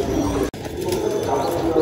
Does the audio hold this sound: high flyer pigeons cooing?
yes